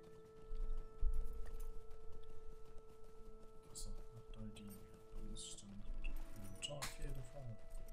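Horse hooves clip-clopping steadily during a ride in Lord of the Rings Online, a continuous rhythmic trot with faint jingling of tack, running under game music and a voice talking.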